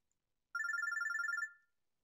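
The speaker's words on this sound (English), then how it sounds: "The phone's ringing." A phone in the Robotics;Notes Elite video game rings with a rapid warbling electronic trill, one burst of about a second, clear and close against silence.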